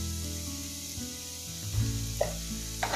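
Chili powder, coriander powder and other spices sizzle in hot oil in a pan with a steady frying hiss, interrupted by brief stirring scrapes.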